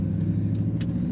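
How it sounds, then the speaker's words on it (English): Low, steady exhaust rumble from a 1998 Chevrolet Silverado K1500 extended-cab pickup with about 55,000 miles, a continuous close drone with a faint metallic jingle over it. "Nice rumble to that exhaust on this truck."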